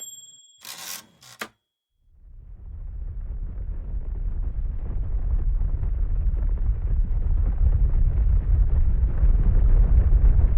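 Atomic bomb detonating over Hiroshima, Japan in 1945, heard as a sharp burst after a brief pause, then a deep, sustained rumbling roar that swells steadily and stays loud to the end.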